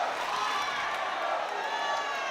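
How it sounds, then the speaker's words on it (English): A boxing arena crowd cheers and roars continuously for the local fighter during round two of a twelve-round bout in Singapore, a dense, steady wash of voices and whoops with no breaks. "The crowd getting behind their local boy."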